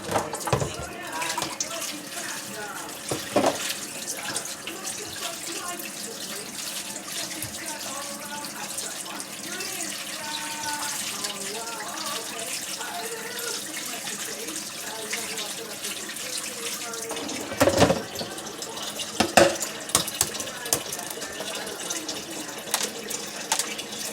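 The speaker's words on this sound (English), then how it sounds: "Run some cold water on them first." Cold tap water runs steadily into a kitchen sink over boiled eggs about to be peeled, a continuous splashing stream with a few louder clatters and splashes partway through.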